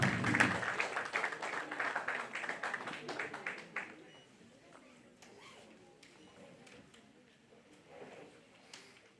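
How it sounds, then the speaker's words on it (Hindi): An audience at Hansraj College bursts into loud applause to welcome Sudha Murthy, with a dense clapping burst at first that thins out into scattered claps and murmurs, while a voice talks in the hall. "एक बार जोरदार तालियों के साथ हम सब अपने स्थान से खड़े होकर उनको आमंत्रित करते हैं।"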